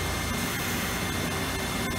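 A Star SST-16 CNC Swiss lathe machines stainless steel tubing at a few thousand RPM, giving a dense, loud, continuous roar of spindle and cutting noise with brief dips, close by and without talk.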